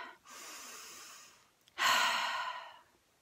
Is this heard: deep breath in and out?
yes